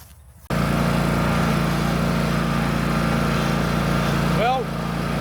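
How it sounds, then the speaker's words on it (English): A lawn mower cuts through long, overgrown grass with its deck raised to five inches, starting abruptly and droning loudly and steadily from close by, with a brief higher-pitched sweep near the end. "I'm mowing with the deck all the way up 5 inches."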